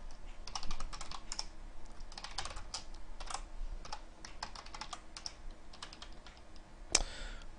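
Rapid, uneven clatter of typing on a computer keyboard in a telnet session to a running TCP server, keys struck in quick bursts for several seconds, with one sharper click near the end, no voices.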